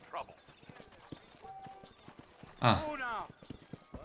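Horse hooves clip-clop in a steady rhythm in the Red Dead Redemption video game, with a loud whinny partway through and a brief voice at the start.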